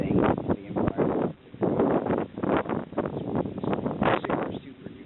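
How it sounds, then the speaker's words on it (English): Strong wind blows outdoors in Florida, buffeting the microphone in heavy, uneven gusts. The low roaring surges repeatedly and dips briefly between blasts. "It's super duper windy."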